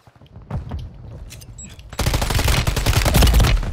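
Rapid video-game gunfire aimed at the player, loud and close, with a scattered burst early on giving way to dense, continuous automatic fire during a squad shooter match.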